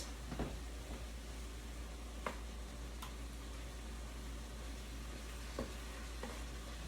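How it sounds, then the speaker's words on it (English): Shrimp fried rice frying and being stirred in a pan, a steady sizzle with a few sharp scraping clicks of the utensil scattered through, close and alone with no talking. "So we're gonna keep just stirring this."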